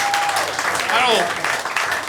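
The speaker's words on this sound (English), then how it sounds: "Clap it up for Giancarlo and Ray" Steady applause from a comedy roast battle audience, with cheering voices and chatter mixed in throughout.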